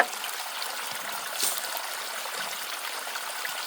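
Water rushes steadily through a Gold Fox Mini Monster sluice during low-water gold prospecting. The pump runs on a speed controller and the flow makes a continuous, even, nearby hiss, alone without talk.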